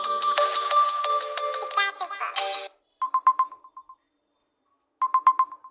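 A Samsung A03 phone ringtone starts as a bright chiming melody, then turns into short bursts of sharp repeated beeps separated by silence.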